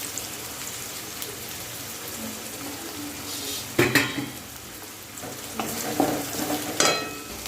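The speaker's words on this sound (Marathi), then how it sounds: "मी एक कांदा कट केला होता बारीक तो फ्राय करून घेणार आहे" Finely chopped onion fries in a pan for a dry kurdai stir-fry, a soft steady sizzle with a few louder clinks and scrapes of a spoon against the pan now and then.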